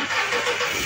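A Renault Kwid car engine starting, a steady, fairly loud mechanical rush that fills the short moment without any gap or pause.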